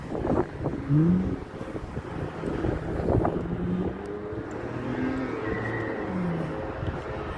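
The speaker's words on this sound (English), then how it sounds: "A little bit windy, but not too overwhelming with the wind." Gusting wind buffets the microphone on a morning walk outdoors in Las Vegas, a continuous rumbling roar with low flapping bursts, passing car engines faint in the background.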